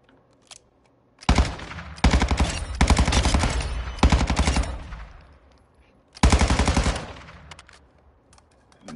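Rifle fire in Call of Duty MW2 DMZ: loud, close automatic bursts from a single rifle, three long strings of rapid shots separated by short pauses, with no talking over them.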